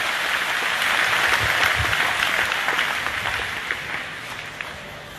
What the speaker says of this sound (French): On va encore acclamer notre Père évêque qui est au milieu de nous.